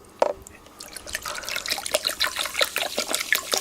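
Mountain Dew pours into a container over an iPhone, with a steady fizzing trickle that builds and bubbles continuously after a single sharp clink at the start, close and fairly quiet, with no talking.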